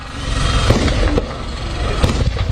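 Gunfire near the West Bank village of Al-Mughayyir, northeast of Ramallah, rings out as several sharp cracks, two of them distinct, over a steady rumbling background.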